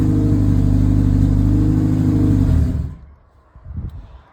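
A Honda EP3 with a Haltech ECU idles loudly and steadily, then the engine is switched off and winds down, leaving a few faint clunks and rustles afterward.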